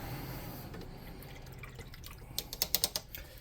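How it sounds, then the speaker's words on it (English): A paintbrush is swished and rinsed in a water cup after miniature painting, giving soft liquid movement that ends in a quick run of small, close drips and clinks. "Let me rinse out my brush."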